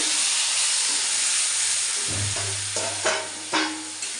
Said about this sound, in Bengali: রসুনটা এইভাবে ভাজা ভাজা হয়ে গেলে এবারে এর মধ্যে পেঁয়াজ বাটা দিয়ে দিতে হবে।